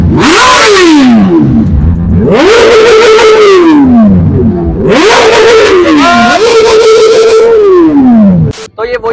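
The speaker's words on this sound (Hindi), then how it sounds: "बाइक्स देखो भाई कितनी सारी आ गई और साउंड भी" Loud motorcycle engines rev hard in repeated sweeping surges, pitch climbing and falling with each throttle blip, close by and dominating everything.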